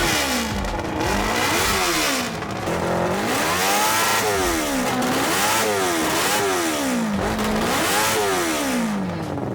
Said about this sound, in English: put a Honda CBR 600 motorbike engine in it, which has got a nitrous oxide system on it